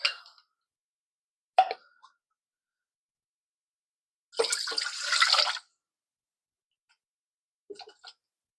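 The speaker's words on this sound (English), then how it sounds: "So I'm just going to add this straight to a pot and bring it up to a boil" Canned spicy pork broth poured from a jar into a pot: a single splashy pour lasting about a second, with a few small plops and clinks before and after amid silence.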